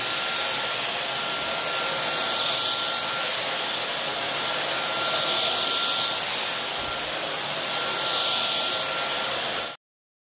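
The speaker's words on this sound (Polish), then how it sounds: "I teraz kolejny dywan, moc maksymalna odkurzacza." A TechniSat Technimax AS1 upright vacuum cleaner runs at maximum power on carpet, giving a loud, steady airy roar with a high motor whine. It holds for about ten seconds and then cuts off abruptly.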